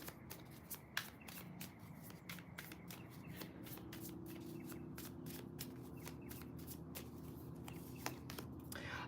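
Tarot cards are shuffled by hand in a quiet room, a long run of soft riffling flicks and slaps repeating in quick irregular bursts, close and fairly faint, with no talk.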